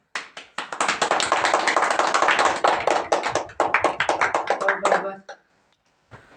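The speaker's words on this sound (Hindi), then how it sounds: "आप लोग इस प्रोग्राम पे तालियां लगा दीजिए" Clapping from a crowd at a village school Republic Day program, steady and dense for about five seconds before stopping abruptly, with a last lone clap after a pause.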